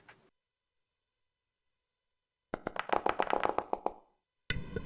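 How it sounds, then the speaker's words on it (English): A small round of applause: after a silent stretch, a few pairs of hands clap quickly and fairly close for about a second and a half, then stop, and another short burst begins. "can I have a big round of applause for my sister Denise? Join in the clapping."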